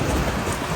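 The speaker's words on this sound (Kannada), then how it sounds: "ಇವಾಗ ನಮ್ಮ ಮೈಸೂರ್ಗೂ ಹಿಡ್ಕೊಂಡೈತೆ ಇಷ್ಟೊಂದು ಮಳೆ." Heavy rain pours down in Mysore, a dense, continuous roar of drops pounding surfaces, loud and near with no talk.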